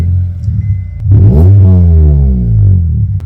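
A Stage 1 tuned Honda Accord with a 2.4 engine revs hard once through its exhaust, close and loud, climbing to a raspy peak before settling back to idle.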